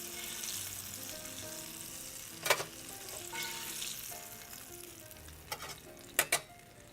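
Cornmeal-coated thin catfish pieces frying in hot oil, giving a soft, steady crackling sizzle broken by a few sharp louder pops and clatters, with no one speaking.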